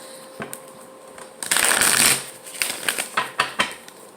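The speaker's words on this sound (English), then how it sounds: "All right, so let's shuffle these, get you another spread" A loud riffle of tarot cards being shuffled, followed by a series of quick card taps and flicks at close range.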